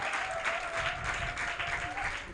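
Congregation clapping in a church service, a soft, fairly distant wash of many hands with a sustained tone running underneath.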